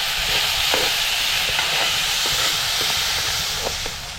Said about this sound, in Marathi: आता ह्याच्यात आपल्याला थोडंसं तेल ओतायचं आहे आणि कांदा भाजून घ्यायचा आहे.